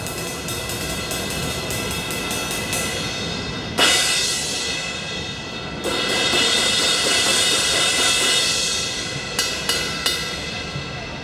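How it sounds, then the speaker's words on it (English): A Zildjian 20-inch K Dark Crash Thin cymbal at a NAMM trade show is ridden and crashed, giving a continuous washy shimmer with several sharp crash accents, close and loud, without talk. "We have a 20-inch K-Dark Crash Thin that had been in the catalog for years."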